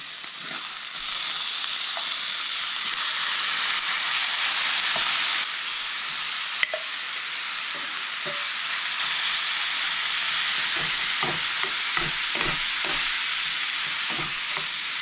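Hash sizzles and fries steadily in a hot pan with charred vegetables over high heat, a continuous bright crackle with scattered stirring clicks and scrapes toward the end.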